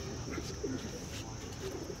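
Domestic pigeons coo steadily in a loft, a soft low murmur running continuously under a constant background hiss.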